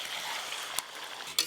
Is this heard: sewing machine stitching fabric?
no